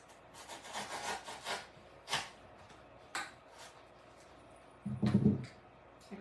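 Short wooden dowels being cut shorter by hand, giving several rough rasping saw strokes, a few isolated scrapes, then a brief louder burst near the end, fairly close and quiet with no talk.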